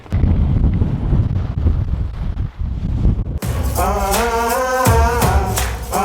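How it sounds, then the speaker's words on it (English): Strong wind roars and buffets the microphone without letup, a loud, dense rumble that shifts in tone partway through as gusts keep battering. "It's dead windy."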